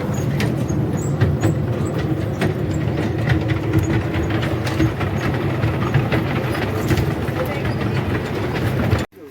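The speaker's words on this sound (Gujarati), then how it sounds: "મિત્રો ટ્રેન ચાલી પડી છે આપણી અપ્પુ એક્સપ્રેસ." The Appu Express toy train ride at the Appu Ghar amusement park pulling away: a steady rumble and rattle of wheels with clicking and clacking, heard from on board at close range, ending abruptly.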